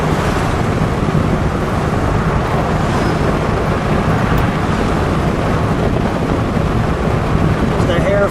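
A red 1960 Pontiac Bonneville convertible cruising down the highway with the top down, loud constant wind rush and road roar buffeting the microphone throughout.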